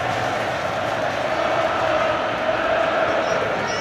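A football crowd of Barnsley supporters roars in a stadium late in a match, a broad sustained swell of cheering heard from a distance with a commentator talking over it.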